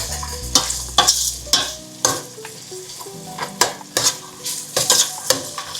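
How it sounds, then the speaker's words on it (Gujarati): Onions frying with ginger and chillies in a pan for Porbandar-style pav ragdo, a steady sizzle broken by repeated scraping stirs of a spoon against the pan, close and fairly loud. "ડુંગળી નાખી દીધી."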